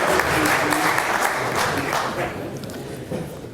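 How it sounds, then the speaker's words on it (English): A seminar audience bursts into a short round of applause for a volunteer from the crowd. The clapping is dense and loud at first, then thins out as it fades. "Let's give Sipo a round of applause"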